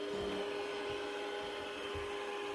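A Swiss Military robot vacuum cleaner runs indoors with a steady whirring motor hum. Faint periodic bumps and brush sounds come through under the drone, and no one talks.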